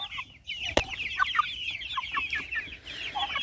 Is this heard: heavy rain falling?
no